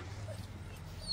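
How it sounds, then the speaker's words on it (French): A dog, the property owner's, gives faint, brief whimpers and small yips over a low steady hum, quiet and close with no talk. "En fait, c'est le chien du proprio."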